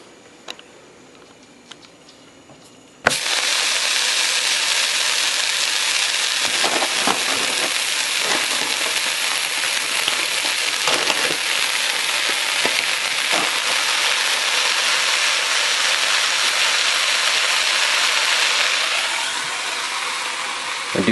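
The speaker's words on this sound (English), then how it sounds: "Sizzling pan ASMR." After a quiet start, a loud, sudden sizzle erupts and continues as a steady crackling hiss of a pepperoni and cheese sandwich frying in a hot pan, fading slightly near the end.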